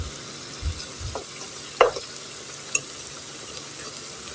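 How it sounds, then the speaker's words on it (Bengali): Pantua sweets deep-frying in a pan of hot oil: a continuous soft sizzle and bubbling, with a few light utensil taps and stirring scrapes over it, close and fairly quiet. "এভাবে আমি সবগুলি ভেজে নিব। দেখো কত সুন্দর লাল লাল ভাজা হয়ে গেছে।"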